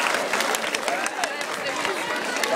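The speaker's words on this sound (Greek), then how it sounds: "Καλωσορίζουμε με ένα θερμότερο χειροκρότημα" Warm applause from a school assembly at a Greek secondary school's blessing ceremony, welcoming new first-year students; a continuous patter of many hands with sharper individual claps, likely with voices mixed in.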